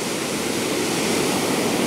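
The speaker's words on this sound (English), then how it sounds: "Ooh, that was loud. You hear that crash?" Ocean waves wash into a coastal parking lot with a loud, continuous roaring rush of water, steady throughout and close, with no voices over it.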